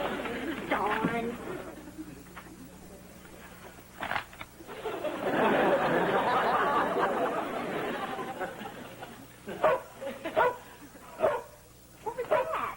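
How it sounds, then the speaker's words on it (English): A dog barks and yips in several short bursts indoors, mid-distance, mixed with people talking throughout, some barks overlapping the voices and a few sharp yelps near the end. "Well, Alice, I know it's a dog, but what's it doing here?"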